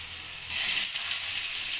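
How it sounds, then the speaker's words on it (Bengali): A sharp sizzle of pumpkin pieces frying in hot oil in a wok jumps up partway through as pieces hit the pan, then holds as a steady crackle. "এখানে আমি কুমড়ো আর আলুটা একটু লাল করে ভেজে নেব। কড়াইয়ের মধ্যে দিয়ে দিলাম কুমড়োগুলো।"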